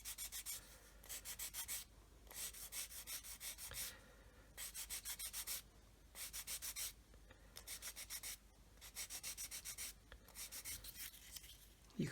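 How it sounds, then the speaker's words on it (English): A sanding stick rubs against a 1/32 plastic model aircraft kit of an OV-10 Bronco, making quiet, rapid back-and-forth scratching strokes in repeated bursts separated by short pauses. "making sure I'm keeping the sanding stick parallel to the surface of the floor."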